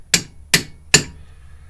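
A hammer taps a seal driver on a Subaru EJ25 clutch seal with three sharp, evenly spaced metallic strikes and a faint fourth tap at the end, close and loud.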